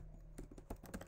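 A brief burst of typing on a computer keyboard: a handful of quick, light key clicks close by, with no talking.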